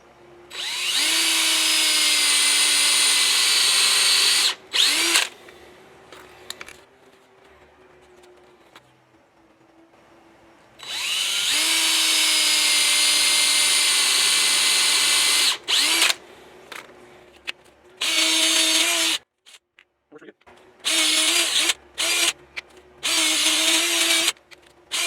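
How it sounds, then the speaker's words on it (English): A power drill whines in long bursts while drilling holes for an 80-gallon air compressor install, stopping and starting, with short pulses near the end and quiet gaps of handling between runs. "Now I need to drill some holes,"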